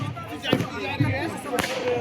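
Sharp cracking bangs from firecrackers set off in celebration, two strong bursts about a second apart, over a noisy crowd with people talking in the background.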